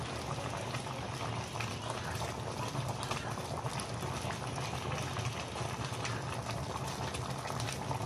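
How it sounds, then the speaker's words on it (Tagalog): Coconut milk with tilapia bubbles at a steady, close boil, a dense continuous burbling with no talk. "Guys, ilagyan natin ng gata. Kulo-kulo na."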